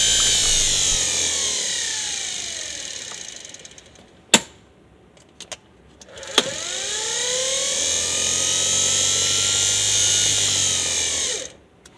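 A restored 1953 Cadillac generator runs on a test bench with a steady, loud high-pitched whine that drops out around the midpoint, then starts again with a rising spin-up and holds steady. A few sharp clicks fall in the gap.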